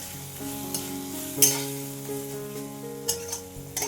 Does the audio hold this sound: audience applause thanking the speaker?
no